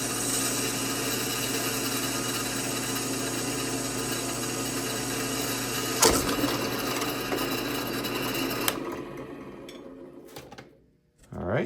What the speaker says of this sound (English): let's go ahead and try out this Stinger drill bit